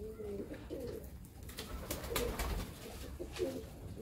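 A pigeon coos in soft repeated low phrases among other birds kept as game birds, with a faint background rustle and no talk.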